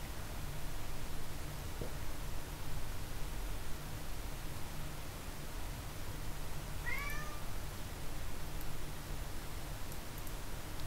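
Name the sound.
cat meowing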